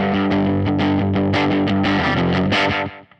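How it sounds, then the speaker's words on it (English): Electric guitar, a Telecaster, through a Fender Mustang GT amp modeling a Blackface Deluxe Reverb pushed hard, with slapback delay and overdrive: a loud, dense strummed chord phrase with a distorted tone, fading at the end. "Slapback always sounds good with tellies."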